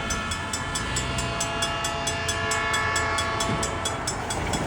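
A freight train nears a railroad crossing, its horn blaring in a sustained tone over the rolling rumble of rail cars, fairly close and steady throughout.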